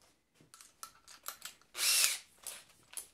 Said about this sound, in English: What's going on with my drill?